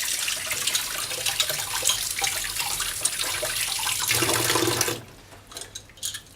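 Tap water pours steadily over trumpet valve parts as they are rinsed, a continuous close hiss lasting about five seconds before cutting off, followed by faint handling clatter.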